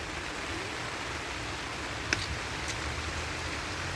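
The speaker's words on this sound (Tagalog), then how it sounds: "umuulan po dito sa amin." Rain falls steadily outdoors near farm fields, a constant dense hiss with one faint tap partway through and no voices.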